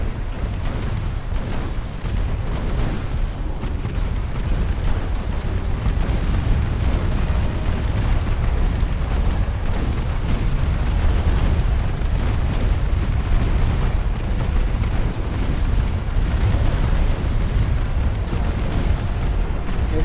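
Naval gun batteries of 1890s-style warship hulls firing in Ultimate Admiral: Dreadnoughts, a dense, continuous rumble of booms and distant blasts rolling on without pause for twenty seconds, with no talking.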